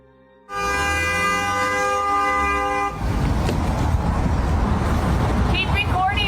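A car horn blares in one long, steady honk at a drive-thru, followed by a burst of noisy, distorted shouting and traffic rumble.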